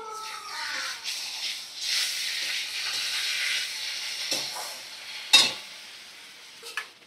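Poppy seed paste stirred into papaya frying in a pan: a soft, steady sizzle with light scraping of the stirring spoon, a few sharper clinks near the end, no talking.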